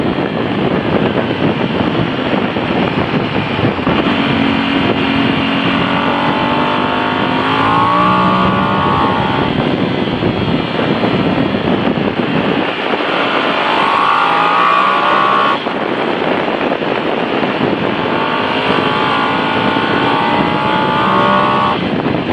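A 2013 Bimota DB10 Bmotard motorcycle heard from onboard while riding, its engine droning and rising through revs under steady loud wind rush, with no talking.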